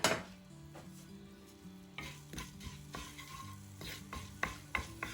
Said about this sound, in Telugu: ఆయిల్ వేడయ్యాక 1 టీ స్పూన్ ధనియాలు, 1 టీ స్పూన్ జీలకర్ర వేసి కొద్దిగా వేగనివ్వండి.